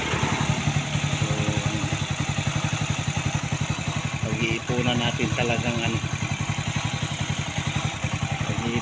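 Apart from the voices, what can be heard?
Motorstar motorcycle engine running during the ride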